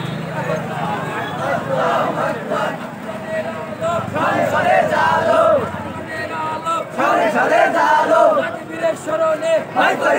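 A large crowd chants slogans in unison at an Islami Chhatra Shibir street procession in Meherpur marking its 48th founding anniversary, with loud, rhythmic call-and-response shouts, several rising waves of massed voices, and continuous babble throughout.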